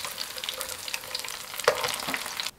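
Oil gently sizzling over low heat with scallion pieces and onion, a continuous soft crackling fry with a few small pops, close and quiet, cutting off abruptly at the end.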